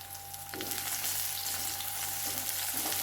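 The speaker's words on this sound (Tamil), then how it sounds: "வெங்காயம் நல்லா வதங்கிடுச்சு" Small onions sautéing in a pan for onion thokku, a steady sizzle and frying hiss that continues without pause, with faint stirring scrapes near the middle and end.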